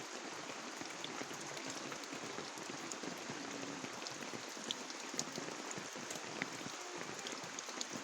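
Rain falls steadily, a soft, even patter of drops on surfaces with a faint scattering of louder drips, quiet and continuous.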